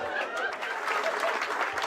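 A comedy show audience in Minneapolis claps briefly, a short, fairly soft patter of applause with some murmuring voices mixed in.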